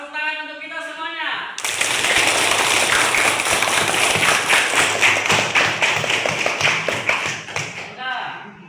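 Seventh-grade students in a school classroom burst into loud, sustained applause for several seconds after a brief spoken line, with a voice returning as the clapping ends.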